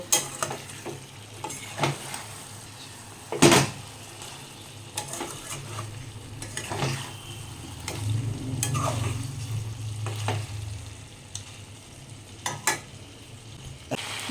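Fried potatoes and carrots stir-frying with spices in a pan for a chicken jhol, a soft continuous sizzle broken by repeated scraping and knocking of a spatula against the pan, with one sharp clank early on.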